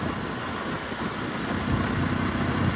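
An Eicher tractor hauling a 20-disc harrow through a sugarcane field gives off a steady mid-pitched engine drone, close and continuous, with no voices.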